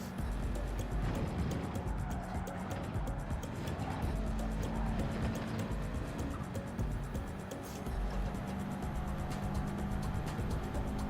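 Race car in the Gran Turismo 7 video game, a steady, continuous engine roar with faint tire squeal running throughout, close and even in level.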